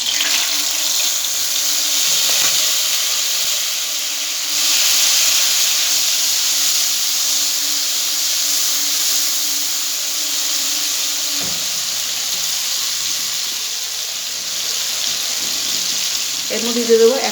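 Tomato paste hitting hot oil in a pan while cooking potol bahadur, a steady broad sizzle and hiss running throughout, close and fairly loud.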